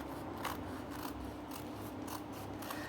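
Scissors snip through Amazon packaging in a quiet room, a steady run of faint, regular cuts roughly every half second with soft mechanical clicks between them.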